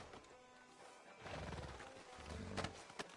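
Horse hooves clip-clopping in the video game Red Dead Redemption 2, a few soft thuds that grow louder toward the end, with faint background ambience.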